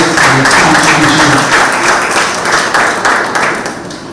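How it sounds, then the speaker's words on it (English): A loud, dense round of applause rises from the audience at an International Women's Day mature pageant celebrating its 20th anniversary, holding steady and then tapering off near the end. "So give them a round of applause for their contribution."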